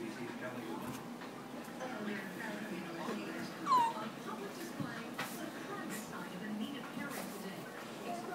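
A dog playing fetch outdoors gives a faint, brief whimper partway through, mostly low under children and adults talking nearby.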